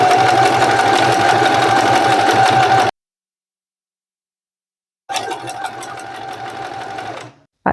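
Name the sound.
sewing machine stitching fabric closed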